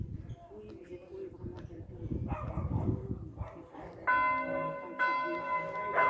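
Church bells of San Filippo Neri in Soriu di Tenda, Corsica, begin ringing for mass, two or three clear bright strikes arriving in the latter part after a stretch of outdoor noise with a dog barking and someone talking.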